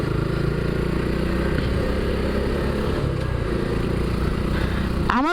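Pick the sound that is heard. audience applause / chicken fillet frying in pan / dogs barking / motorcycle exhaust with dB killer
motorcycle exhaust with dB killer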